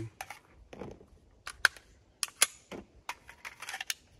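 Test-firing of a PSA rifle: a few sharp, snappy reports and clicks spread irregularly over a few seconds, fairly quiet and dry, with no talking.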